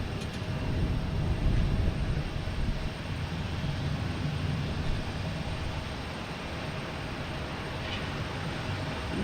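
An Alaska Airlines airliner arriving from Seattle lands at Boston Logan Airport, a steady broad jet roar with low rumble holding loud and continuous throughout, no voices over it.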